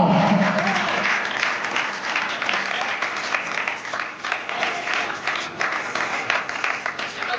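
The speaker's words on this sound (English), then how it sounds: "Round of applause for Anamika." A crowd applauds Anamika at an English-coaching academy celebration, steady and fairly loud throughout, with faint voices mixed into the clapping.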